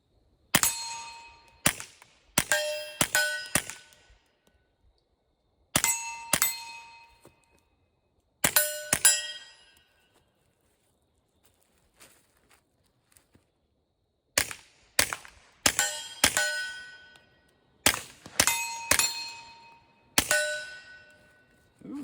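A suppressed Mac-11 machine pistol firing outdoors, sharp metallic cracks in quick bursts and double taps separated by short pauses, each shot ringing with a clanging action.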